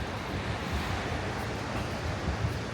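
Ocean waves washing onto a beach, a steady loud rolling roar with wind buffeting the microphone, no talk.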